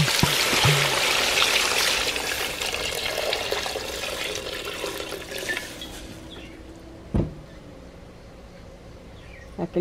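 Water poured into a pot of frying shrimp shells for a shrimp and clam stew, a broad rushing pour that starts loud and fades after about six seconds, with a couple of clanks near the end.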